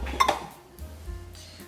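A heavy aluminium pressure cooker from Heiwa being handled for cooking brown rice, giving a couple of close metallic clanks and knocks followed by softer shuffling.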